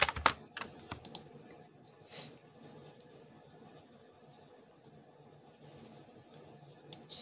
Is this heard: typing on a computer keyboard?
yes